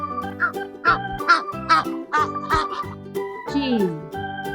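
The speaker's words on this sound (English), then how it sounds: "goose." Honking goose calls, several short nasal honks in an uneven rhythm, close and fairly loud, with no talking over them.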